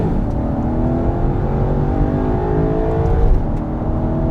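A Maserati GranTurismo accelerates hard, its engine note rising steadily and loudly in pitch with a smooth, full-throated roar, heard up close with no talking.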